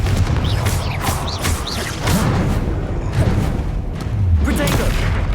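A Confringo fire spell explodes in Hogwarts Legacy with heavy booming blasts and crackling bursts, loud and near, repeating over a busy combat din with voices calling out.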